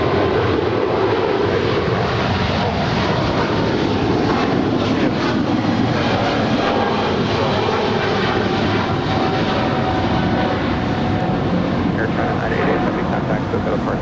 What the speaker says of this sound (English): This is Air China Flight 988 departing to Tianjin. It's a 777-300ER.